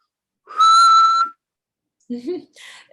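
A person whistles while breathing in, producing one steady, clear, fairly loud tone lasting under a second, followed by short bursts of talk.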